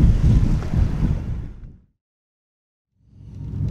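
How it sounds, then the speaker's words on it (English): Wind blowing at sea off San Clemente Island, a loud rumbling gust that buffets the microphone, dies away to silence for about a second, then swells back in. "Wind's already picked up."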